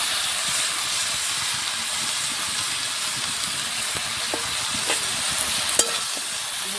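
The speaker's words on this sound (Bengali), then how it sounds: "এবার পুঁই শাকটা দিয়ে দিচ্ছি" Malabar spinach hisses and steams loudly in a hot pan, a constant close sizzle with a few faint stirring taps and one sharp clink near the end, no talking.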